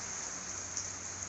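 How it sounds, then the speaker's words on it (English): Steady rain falls outside during a storm on a farm, a continuous even hiss with no other sounds. "It's still raining out there, just not like it was."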